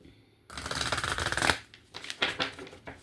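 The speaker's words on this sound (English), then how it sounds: "gonna shuffle for Capricorn" Tarot cards are shuffled close up: a quick rustling riffle runs for about a second, then short papery bursts of cards slide and tap together, with no talking.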